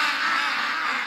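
Several ducks quack continuously at close range, a dense, raspy chatter filling the short moment with no pauses and no voices over it.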